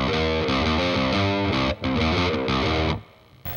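Distorted electric guitar plays the intro riff of a song, a dense, loud run of chugging repeated notes with brief gaps, then cutting off near the end.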